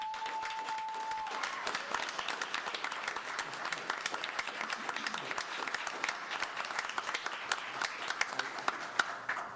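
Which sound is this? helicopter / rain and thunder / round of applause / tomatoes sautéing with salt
round of applause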